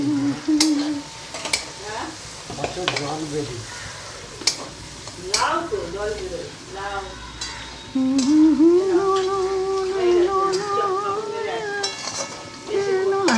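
Vegetables sizzle and fry in a pan for hakka chowmein, with spatula scrapes and stirring clatter against the pan, a steady hiss underneath and a person talking over it.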